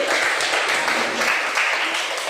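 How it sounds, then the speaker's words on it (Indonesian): A classroom group applauds with dense, overlapping clapping from many hands that stays steady and fairly loud from start to finish. "Oke, tepuk tangan untuk kelompok B"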